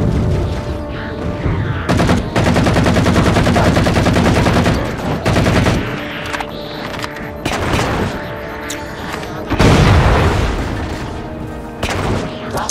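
Pistol gunfire in Halo 4 rings out loud and close in repeated bursts and single cracks across a busy battle soundscape, with booming impacts and a steady tonal game backdrop.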